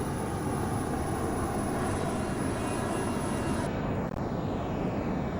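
A Learjet 35A jet in Microsoft Flight Simulator 2024 roars steadily and loudly during a climb after takeoff, a dense continuous engine rush with a slight change in tone near the end.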